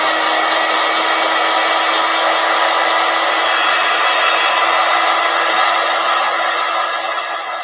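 A hair dryer blows steadily and loudly at close range to dry paint on a stenciled flower, a continuous even whoosh with a constant motor whine and no talk.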